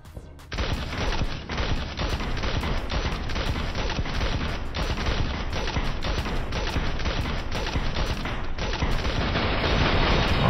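Sustained automatic gunfire in the video game Cyber Hunter, aimed at a hacker: dense, continuous volleys of shots that stay loud and steady with no pauses, and no talking over them.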